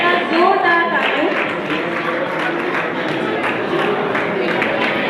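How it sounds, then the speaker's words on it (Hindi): Continuous applause from the audience at a Sindhi community ceremony honouring mothers-in-law and daughters-in-law, a steady rustle of many hands clapping through the hall while a voice talks over it. "मिसाल है जोरदार तालियां।"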